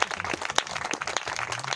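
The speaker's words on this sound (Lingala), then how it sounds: "Vamos applaudir." A church congregation applauding during a service: a brief burst of scattered, irregular handclaps from a crowd, moderately loud and close.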